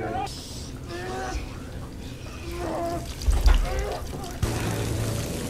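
Water from the film Dunkirk floods into a ship, a rushing, pouring wash that swells midway and keeps running, with voices talking over it and a low surge near the end.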